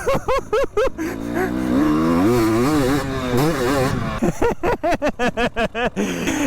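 A Husqvarna two-stroke fuel-injected motorcycle engine revs hard and close, with sharp repeated blips at the start, a sustained wavering rise in the middle, then a rapid burst of short throttle stabs at the end.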